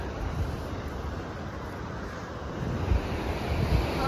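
Surf on Morjim beach in Goa, a steady close wash of breaking waves roaring with heavy wind noise on the microphone, swelling slightly toward the end, without voices.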